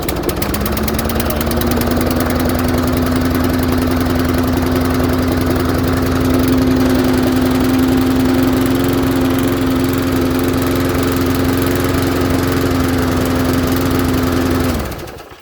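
A free second-hand lawn mower's small petrol engine, running in poor smoky condition, drones loud and steady at constant pitch for about fifteen seconds after starting, then cuts off abruptly at the end.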